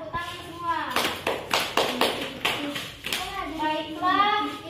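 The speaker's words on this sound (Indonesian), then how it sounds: "tepuk tangan semua" Children in a classroom clap their hands together in a short, loose burst of rhythmic claps while a teacher's voice talks before and after.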